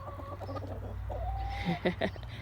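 Backyard chickens cluck in a few short, close, moderately quiet bursts near bedtime, with a drawn-out murmuring call in the middle.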